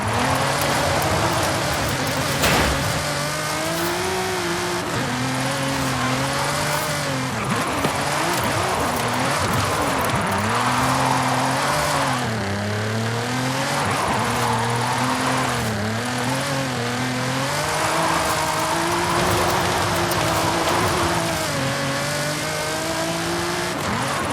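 Nissan GT-R with a PR38 TET engine drifting in Forza Horizon 5, its engine note rising and falling steadily through repeated revs and gear changes, loud and continuous with tire squeal mixed in.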